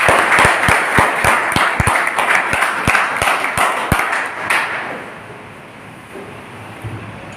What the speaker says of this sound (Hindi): इसलिए मैं चाहूंगा इसके लिए जोरदार तालियां।